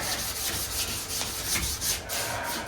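Steady rubbing and scraping of 320-grit sandpaper being worked across the body of a 1932 coupe, a continuous close-up rasping with gentle rises and falls and no voices.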